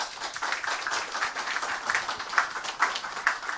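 Applause from an audience greeting a lecturer at a Korean church seminar on the liturgical calendar, a steady wash of clapping at moderate level for a few seconds, with no one speaking over it.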